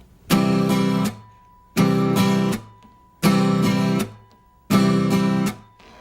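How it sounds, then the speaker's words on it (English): Four matching rounds of a strummed acoustic guitar chord, each a downstroke and an upstroke followed by a sharp muted slap that stops the ringing, played close and steady at an even tempo with no talking. "I'll play the chord 2 times, once down and once up. And then I hit it with that mute."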